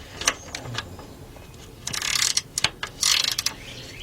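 A ratchet on 3/8 drive extensions with a swivel works an engine bolt on a 1999 Dodge Dakota Sport 3.9 during engine replacement, giving short bursts of clicking and metallic rattles close by.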